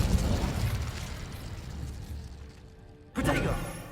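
Incendio fire spell cast in the video game Hogwarts Legacy: a whooshing, crackling flame burst fades over a couple of seconds, then a second sharp fiery pop flares near the end, close and loud.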